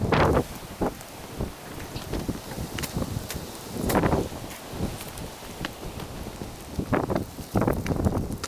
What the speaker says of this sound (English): As you can see here, the gust of wind almost got me.